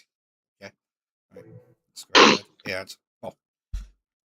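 A single loud sneeze bursts out at close range between bits of casual speech, and a few short vocal sounds follow it.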